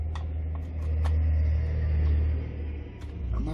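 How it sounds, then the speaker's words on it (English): A bus climbs a road up toward a school, heard as a steady low engine rumble that swells and fades over a few seconds, fairly close, with no talking over it. "that noise was the play bus going up to the school"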